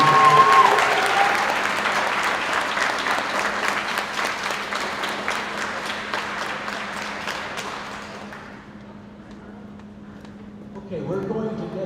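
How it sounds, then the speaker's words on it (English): A crowd at a high school swim and diving meet claps steadily to honor the graduating seniors. The dense applause fills most of the clip, then thins and fades out near the end. "How about one last round of applause?"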